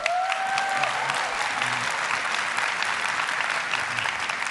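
Steady applause from a keynote audience fills the whole stretch, even and sustained, with a brief tonal whistle at the start.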